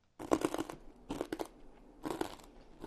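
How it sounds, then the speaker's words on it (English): Three close-up bursts of crunching as small dried mango bites are chewed, each lasting about half a second with quiet pauses between, with no talking. "They're definitely crunchy, I can hear that."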